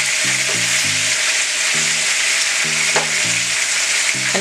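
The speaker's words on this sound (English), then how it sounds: "shrimp literally take about 25 to 30 seconds on each side, and then you're done cooking them" Shrimp frying in leftover plantain grease, a steady close sizzle and crackle with short tonal musical notes repeating in the background.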